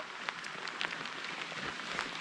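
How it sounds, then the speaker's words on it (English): Rain falling outdoors on a mountain gravel road in Norway, a steady close hiss of patter with a few sharper drops standing out and no break in the sound. "Rain."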